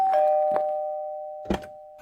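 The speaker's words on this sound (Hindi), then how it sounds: "एक दिन रमन के घर के दरवाजे की घंटी बजी।" A house doorbell rings with a sustained electronic tone ringing out and slowly decaying, close and clear, with brief bursts of speech-like sound and knocks around it.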